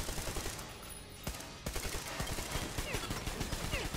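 Gunfire in the video game Metro Exodus: a steady rattle of rapid shots runs throughout, with a couple of sharper louder cracks standing out near the start, and a voice speaks over it.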